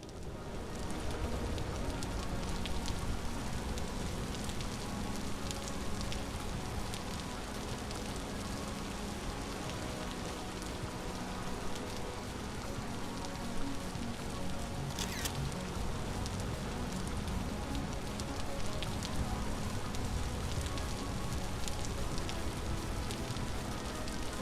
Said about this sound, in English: We have a major thunderstorm going on.